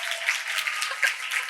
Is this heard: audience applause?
yes